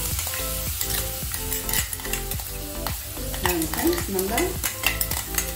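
Garlic chutney paste is stirred in a hot pan, with steady sizzling and frying under repeated scraping strokes of a spoon against the pan, close and fairly loud, while a voice briefly speaks.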